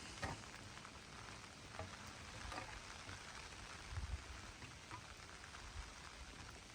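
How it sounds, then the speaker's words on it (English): Rain falling on a rural 20-acre property beside a pond, a steady soft hiss of drops with occasional louder patters, continuous and fairly faint, no voices. "All this rain gonna fill this up in no time."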